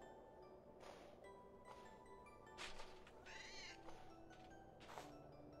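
A cat meows several times in a quiet indoor hallway, with drawn-out, wavering cries spaced a second or so apart, faint and fairly distant over low background hiss.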